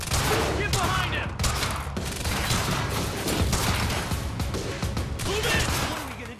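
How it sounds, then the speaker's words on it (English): Sustained heavy gunfire from the video game Quantum Break, dense overlapping bursts filling the whole stretch loudly with almost no pause, while voices shout over the combat. "Stop fucking shooting at him! God damn it! Suppressive fire!"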